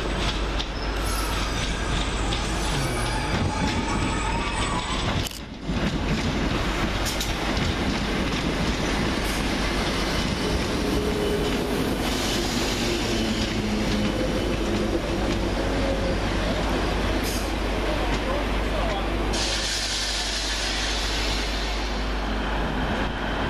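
Class 319 electric passenger train 319378 pulling into Manchester Oxford Road station, a long steady rumble of wheels on rail with metallic squeals and clicking joints, fairly loud and continuous without talk.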